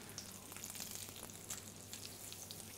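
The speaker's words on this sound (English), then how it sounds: "You can hear it all sizzling and popping in there." A loud wailing air raid siren in Jerusalem rising and falling in a long slow sweep, with sharp clicks and knocks over it, then cutting off abruptly.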